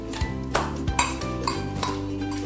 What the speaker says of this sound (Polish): Bierzemy masło i mieszamy je z przyprawami i natką pietruszki. Masło najwygodniej będzie nam wymieszać widelcem.